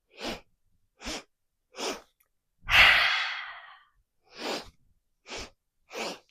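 Yoga breathing: a series of short, sharp breaths at a steady pace, broken by one long, forceful exhale with the tongue out that trails off slowly, close and clear in a quiet room.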